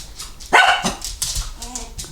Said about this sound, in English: it would not be a video if my dogs wouldn't come in and just destroy it by barking